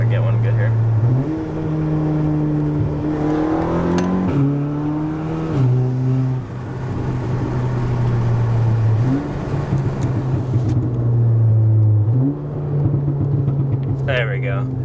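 Tuned 400HP Audi S3 engine revving repeatedly, rising and falling in steps with faint pops and bangs from the exhaust, loud and close with a person talking over it.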